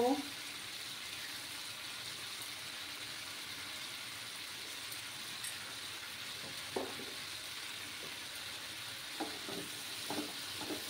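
Papaya and soybean sizzle faintly in a pan while being sautéed, a soft, continuous frying hiss with a few light stirring clinks and scrapes, quiet and close.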